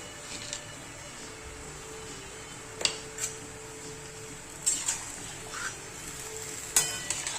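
Spring onion greens being stirred in a pan as they cook, with soft intermittent scraping and light clinks of the spoon against the pan over a faint, steady sizzle, without any talking.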